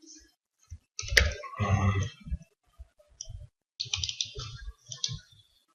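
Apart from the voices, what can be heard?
computer mouse clicks while signing up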